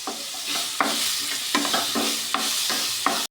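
Chopped ripe bananas are stirred in hot ghee, a continuous close sizzle punctuated by regular spatula scrapes and taps against the pan, with no one speaking.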